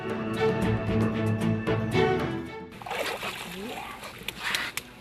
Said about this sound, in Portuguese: uma jovem tartaruga marinha da espécie cabeçuda retorna aos oceanos